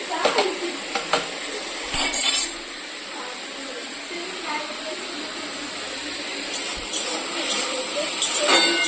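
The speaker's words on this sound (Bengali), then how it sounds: "একটা বেগুন ভাজা হচ্ছে" Eggplant slices frying in a pan on a gas stove give a steady close sizzle, with occasional utensil clinks and stirring bursts over the top.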